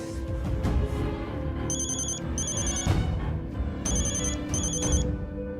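A phone rings on an outgoing call in an Indonesian TV drama scene: four short electronic trills in two pairs over a low murmur of background sound, with no talk.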